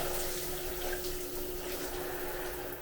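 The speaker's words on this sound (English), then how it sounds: "And here's a test of the shower." A hotel room shower at a Hyatt Place in Amarillo runs steadily, a loud continuous hiss of falling water with a faint tonal hum underneath, heard alone with no talking.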